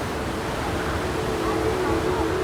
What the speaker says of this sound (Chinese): 已经能听到瀑布声了。